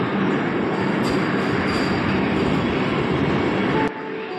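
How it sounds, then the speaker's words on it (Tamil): A train at Chennai Central railway station gives a loud, continuous rumbling roar of rolling stock close by, with faint higher squeals, and eases slightly just before the end. "சென்னை சென்ட்ரல் ரயில்வே ஸ்டேஷனில் இருக்கோம்"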